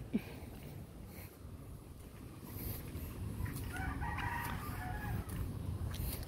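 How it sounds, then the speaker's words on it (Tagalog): Gamecocks crow in a backyard near seaside mangroves, several calls rising over a steady outdoor background, moderately distant. "babalik na tayo doon sa maraming mga pangsabong na manok"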